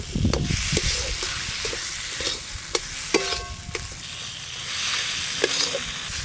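Onion petals frying and being stirred into spiced masala in a pan over a clay stove for egg do pyaza, with steady sizzling and repeated scraping, clinking stirs close by.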